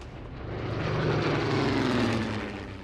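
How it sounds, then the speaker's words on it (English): A Focke-Wulf 190 fighter with a BMW 801 radial engine drones steadily, swelling to a loud passing roar in the middle before easing off slightly, with no voices present. "Its innovative BMW 801 radial engine gave it speed"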